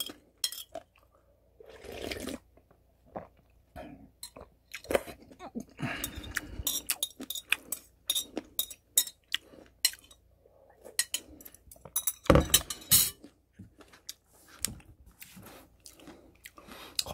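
Someone eats ramen made with iced americano coffee, slurping noodles and broth in close, wet bursts with chewing, clinks of utensils and quiet pauses between mouthfuls.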